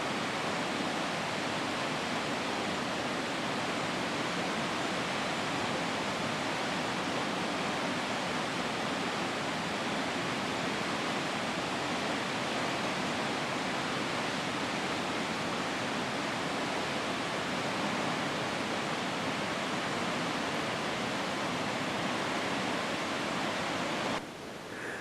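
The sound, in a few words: waterfall on a hiking trail in Tahiti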